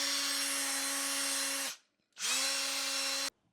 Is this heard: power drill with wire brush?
yes